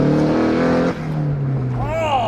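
A Nissan 180SX engine revs hard with turbo boost up to about 4,000 RPM, loud and close from inside the cabin, then drops off with a turbo whistle and flutter as people talk.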